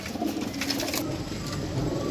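Pigeons being handled and checked one by one for sale, giving soft, close cooing under a steady background hum, with a brief flutter of higher chirps early on.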